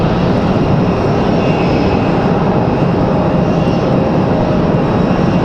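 A Southwest Boeing 737 MAX 8 roars during takeoff at Raleigh-Durham International Airport, its engines producing a steady, loud, unbroken rumble that fills the whole stretch without any speech.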